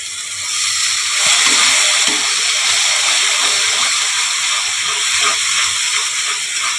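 Water poured into a hot cooking pan holding almond and cashew paste, giving a loud, steady steam hiss that fills the whole stretch without pause.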